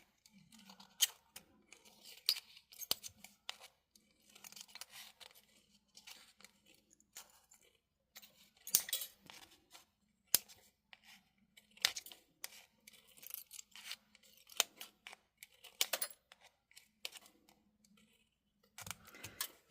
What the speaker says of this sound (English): I believe the craft scissors I use that work pretty good on this metal.